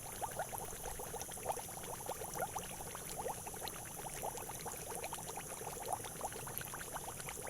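Water from an underground spring pours and gurgles as it is sucked up for rice-field irrigation, a steady close bubbling, sloshing wash that continues evenly throughout, with no talk over it.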